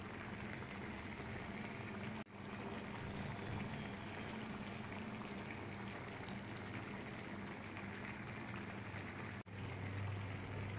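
Toor dal boils in a pot over a high flame, with a soft, steady bubbling and simmering hiss that goes on throughout. Two brief dropouts break it, and there is no speech.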